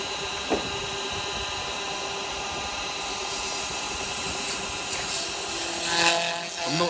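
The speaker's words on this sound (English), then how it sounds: "now let's do a little bit of sanding, just a little bit" A wooden Christmas ornament is sanded while it spins on a woodturning lathe, giving a steady, continuous whirring rub over motor hum that swells slightly toward the end, with no talking.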